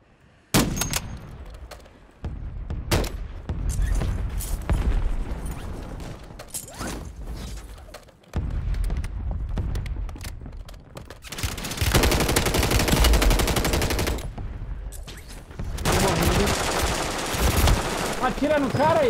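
Gunfire in the video game Warzone 2.0 comes as sharp single shots followed by long, dense automatic bursts, loud and close. Mechanical clatter sits between the volleys, with a voice talking faintly underneath.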